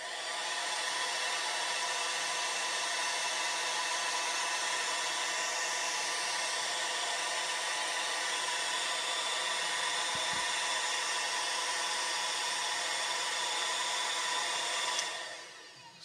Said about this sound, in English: I'm going to use the hairdryer now to just blast these